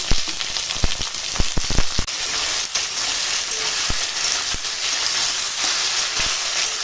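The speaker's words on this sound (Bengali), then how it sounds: "সবজিটা একটু অল্প সময় ভেজেছি" Potatoes and tomatoes sizzle steadily in hot oil, a close, constant frying hiss broken by sharp spatters and clicks of stirring.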